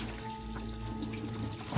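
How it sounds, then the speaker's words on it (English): Soap-and-water washing in a puzzle video game: a steady running-tap, sink-washing wash of water, continuous and fairly loud throughout, with a brief splash near the end. "I love the soap sound effect"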